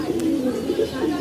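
An old-breed baga pigeon coos in low, soft, rolling pulses, close by, over about a second of continuous murmuring.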